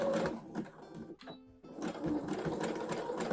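A sewing machine zigzag stitches fold-over elastic in quick bursts, its needle chattering close by, stopping briefly in the middle before resuming at a steady clip.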